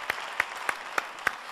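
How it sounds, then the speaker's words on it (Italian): Applause for ballet dancers at a televised music show: a soft crowd wash punctuated by a few evenly spaced, sharp claps, fairly faint and brief. "Un applauso facciamo al balletto"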